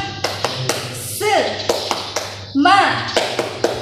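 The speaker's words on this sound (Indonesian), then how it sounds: "yuk kita bersama-sama tepuk semangat yuk" Classroom of pupils doing a rhythmic clapping chant, bursts of sharp claps in a patterned beat alternating with children's voices chanting along in unison.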